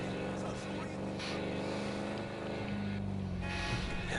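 A car drives through a GTA video game world, heard as a steady engine drone with tyre and wind noise that holds at an even level throughout, with no talking.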